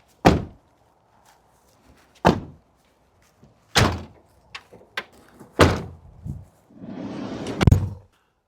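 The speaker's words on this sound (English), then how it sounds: "I'm going to close up all the doors so you get a sense of what the vehicle feels like in a door close mode" Doors on a Ram ProMaster camper van fitted out by Embassy RV are shut one after another, several solid thunks and slams spaced a second or two apart, the last one heavier and preceded by a sliding rumble.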